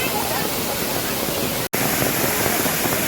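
Water rushing loudly at the Gomukh temple stream, a dense, steady roar close by, broken only by a brief instant of silence midway.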